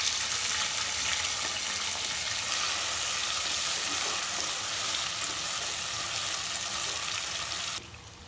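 Tomatoes and green chilies frying in a pan in an Assamese home kitchen, a dense, continuous loud sizzle held steady and close, dropping abruptly to a quieter hiss just before the end.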